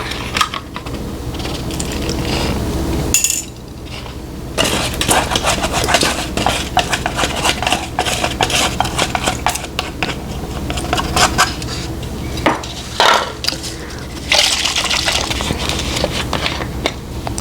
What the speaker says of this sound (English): Now we add the egg and the vanilla and mix until well combined.